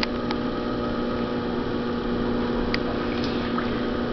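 A pottery wheel motor hums steadily and continuously while clay is being thrown, a low, even whine with faint watery rubbing sounds and no speech.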